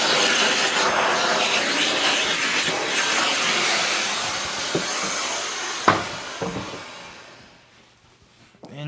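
A central vacuum runs, cleaning out its own system, with a loud, steady airy roar and hiss, with a few knocks near the end as it winds down.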